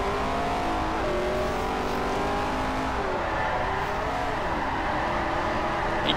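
A drift car engine from the Virtual Formula Drift video game at the Streets of Long Beach course holds a loud, continuous high rev, its pitch wavering as the car slides through the run.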